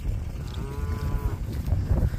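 A cow on a farm pasture gives a single low moo, fairly faint and partly buried in steady wind and outdoor rumble.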